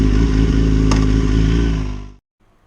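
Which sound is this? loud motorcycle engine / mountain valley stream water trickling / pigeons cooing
loud motorcycle engine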